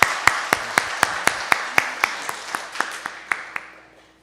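A church congregation claps together in a slow, steady rhythm of about fifteen loud, evenly spaced claps that fade out at the end.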